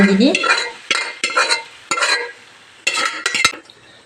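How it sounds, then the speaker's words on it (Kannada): Cooked green gram tipped into a pan and stirred, giving bursts of spoon scraping and clattering against the pan with short pauses between strokes and a light sizzle underneath. "ಇವಾಗ ಬೇಯಿಸಿರೋ ಹೆಸರು ಕಾಳನ್ನ ಹಾಕ್ತಾ"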